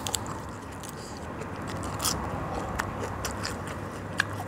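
Close-up eating of fresh vegetables with a spicy dip, dense crunchy biting and chewing with a few sharper crisp snaps, steady and near, with no talking.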